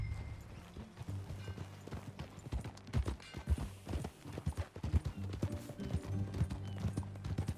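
Horse hooves clip-clop in an irregular trotting rhythm in the video game Red Dead Redemption 2, close by, over a low rumbling background with occasional heavier thuds.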